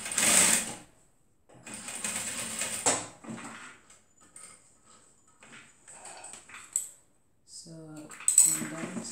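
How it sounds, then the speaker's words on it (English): Sewing machine stitching a lined zipper purse in short intermittent bursts separated by quiet pauses, faint and close, with clicks and handling noises between runs. "I'm done sewing it."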